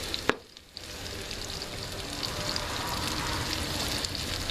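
Sausage frying in a cast iron pan, a steady close sizzle with crackling spatter throughout and a brief sharp clank near the start.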